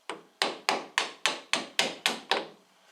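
Light hammer taps seating a bolt into the lower ball joint of a VW Passat 35i, eight sharp, evenly spaced metallic knocks, close and fairly loud with nothing else around them.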